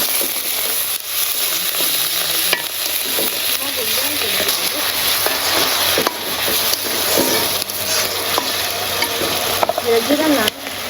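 Ginger, garlic and onion paste frying with salt, turmeric and chili in a pan, a steady loud sizzle with scraping stir strokes throughout while someone talks over it.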